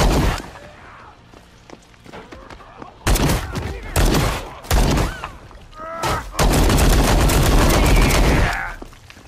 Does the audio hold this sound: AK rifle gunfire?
yes